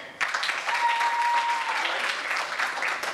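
Fundraiser crowd applause from those who have attended a Major League Baseball game, starting abruptly and sustaining a full, even roar of clapping throughout.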